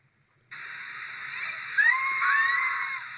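High-pitched human screaming during a dog attack demonstration starts suddenly and holds as a loud, continuous shrill wail with wavering pitch, alone and close.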